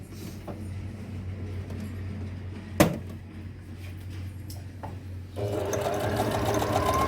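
A sewing machine stitches embroidery on salwar cloth, a steady close mechanical whir with one sharp click partway through, then running faster and louder toward the end.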